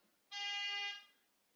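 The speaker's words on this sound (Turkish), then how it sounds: "Hep korna sesi geliyor ya." A single steady car horn honk in Farming Simulator 22, clear and moderately loud, held for about three quarters of a second before cutting off.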